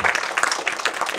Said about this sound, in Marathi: एकदा जोरदार टाळ्या ट्रेलरसाठी व्हायला पाहिजे